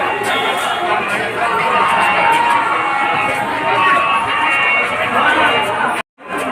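A dense crowd throngs Hanumangarhi temple in Ayodhya, a loud continuous babble of many voices and footsteps close by, steady throughout before cutting off abruptly near the end.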